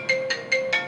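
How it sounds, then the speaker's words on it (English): A mobile phone ringtone sounds four short, even electronic tones in quick succession, clear and close, with nothing else over it. "Oh, that's my phone."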